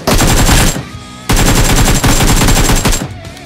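Loud, close automatic gunfire in the shooting game PUBG Mobile, with rapid sustained bursts separated by short pauses.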